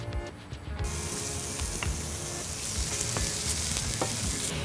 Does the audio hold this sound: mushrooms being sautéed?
yes